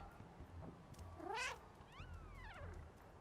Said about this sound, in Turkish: düşmanları çekmek için e, miyavlayabiliyoruz